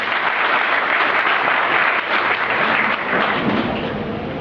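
An audience at a Lohana community gathering in Rajkot applauds, a dense, loud, steady wash of clapping sustained throughout with slight dips in intensity.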